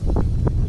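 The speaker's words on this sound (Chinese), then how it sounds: "风很大" Strong gusts buffet the microphone outdoors on a windy fishing trip, a loud low rumble with a few brief puffs of breath-like blasts.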